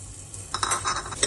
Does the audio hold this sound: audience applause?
no